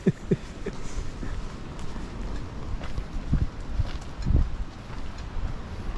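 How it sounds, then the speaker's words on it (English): Strong gusts buffet the microphone at a seaside campsite near Stonehaven, a steady low roar with louder surges and a few thumps, no talking. "The wind's horrendous."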